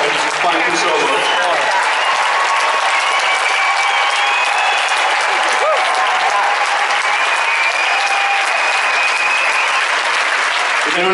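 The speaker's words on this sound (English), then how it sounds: "I'd like to give yourself a really big round of applause" A large charity event audience gives a long, loud round of applause with some crowd noise mixed in. The clapping stays dense and even throughout, with faint voices and whistles under it.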